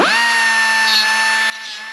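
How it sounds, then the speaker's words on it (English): A power grinder grinding down a weld on the steel body of a 1965 Dodge Coronet 500, a loud, high, steady whine spinning up and holding strong, then dropping in pitch and volume as it loses load. "And yeah, I'll grind that down, see where we get."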